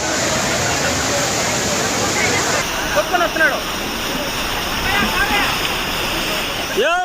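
Floodwater rushes in a loud, unbroken roar around the Kapileshwara Swamy temple, with waves surging and splashing throughout and faint voices and a brief whistle-like tone partly lost in the torrent.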